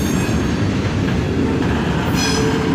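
A slow freight train rolls past in winter, a loud, close, continuous rumble of wheels and cars with a faint metallic squeal, and no voices over it.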